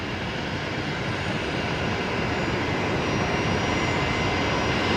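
A large aircraft's engines roar steadily and loudly while it taxis along a taxiway at Brisbane Airport, a broad, continuous drone with no voices.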